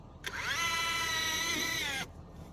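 A power drill drives a screw into OSB on a log cabin build during a winter construction project, giving one continuous whirring burst of about two seconds that rises slightly in pitch, close and clear, then cuts off abruptly.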